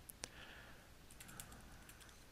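Faint, sparse clicks of typing on a computer keyboard in an office setting, a few scattered keystrokes over low background hiss.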